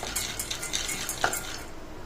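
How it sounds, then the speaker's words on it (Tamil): Split chickpeas being dry-roasted and stirred in a pan over a medium flame, giving a soft, steady scraping rustle with light taps of the spatula, close and fairly quiet, with no talking. "மீடியம் ஃப்ளேமில் ஒரு 2 நிமிஷம் போல் நல்லா ஃப்ரை பண்ணிக்கங்க"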